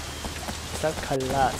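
Heavy rain pours down in the video game Sleeping Dogs: Definitive Edition, a dense, steady hiss of drops throughout, with someone speaking over it.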